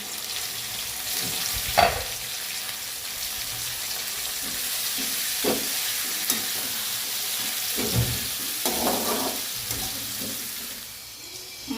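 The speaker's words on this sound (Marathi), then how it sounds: "मीठ टाकते कांदा शिजायला आता टोमॅटो टाकून घेते" Onion and tomato fry in a pan, giving a steady broadband sizzle throughout with a few louder stirring clatters and scrapes, close up with no talking.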